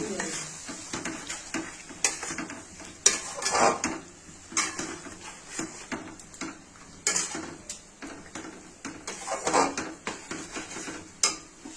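Poppy seed and curd paste with cashews stirred in a pot for chhanar kofta curry, giving repeated scraping and clinking strokes with soft sizzling underneath, close and steady, no voices.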